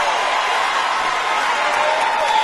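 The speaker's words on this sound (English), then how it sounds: "The crowd comes alive every time there's some space here between these two gentlemen" Boxing arena crowd roaring steadily at a professional heavyweight-style bout between Roy Jones Jr and Scott Sigmon, a dense continuous wash of cheering and whoops at even loudness throughout.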